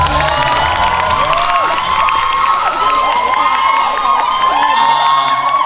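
A large crowd at a national social media awards ceremony in Thailand cheers, whoops and applauds continuously, a loud dense roar with shouted voices rising and falling throughout.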